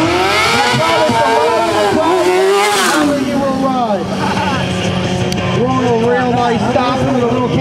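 A freestyle motorcycle at a trick show revs and whines as it drifts, its engine pitch rising and falling in loud sweeps close by, with an announcer talking over it throughout.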